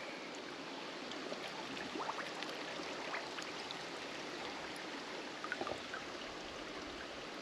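Water flows steadily across a hiking trail in Ontario that a beaver dam has flooded, a constant soft wash of trickling and babbling with faint scattered splashes, distant-sounding and unbroken.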